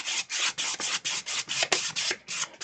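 A scraper drags acrylic paint across paper in about ten even back-and-forth strokes, a close, gritty rasping with a steady rhythm and no voices.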